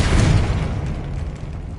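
Confringo blast spell explosion in the video game Hogwarts Legacy, a loud, close, dense burst that rumbles and slowly decays over under two seconds.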